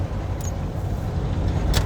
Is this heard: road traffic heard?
yes